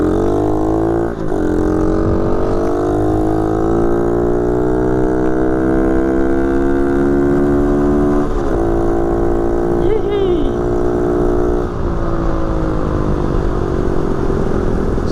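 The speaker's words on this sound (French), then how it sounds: "Allez, on va le démarrer ensemble." A small motorcycle engine runs loud and close, its pitch rising and falling through repeated revs with a few short throttle blips, for a full stretch without pause.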